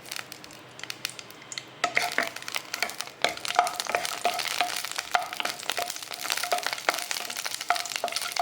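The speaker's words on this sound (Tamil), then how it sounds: "இந்த பச்சை மிளகா வதங்கும்போது" Green chilies frying in a little oil for Udupi hotel-style chutney, a steady crackling sizzle that swells after a quiet start, with scattered sharp pops and occasional scraping of a spoon against the pan.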